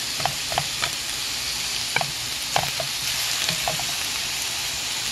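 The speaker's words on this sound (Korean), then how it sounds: "빨간 양파가 있어서 반개 넣습니다. 이렇게 볶아줍니다." Half a red onion being stir-fried in a pan for a watermelon-rind dish, a steady close sizzle with scattered clicks and scrapes from stirring, no voices.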